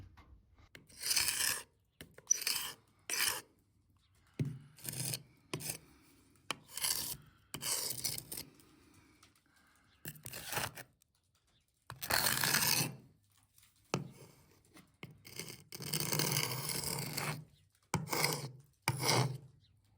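Hand tool scrapes a surface during restoration work at a French château, in repeated rasping strokes of varying length separated by short silent pauses, close and clear with no voices.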